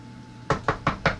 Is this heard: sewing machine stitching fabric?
no